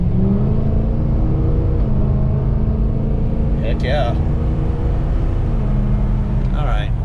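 A Ford King Ranch truck engine runs with a steady, loud low rumble throughout, while someone speaks briefly over it.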